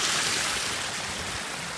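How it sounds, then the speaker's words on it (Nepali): Steady rushing groundwater pours continuously from a pipe, a dense broadband hiss with no pauses, fairly close and unbroken throughout. "यसरी चाहिँ नि पानी आउँछ"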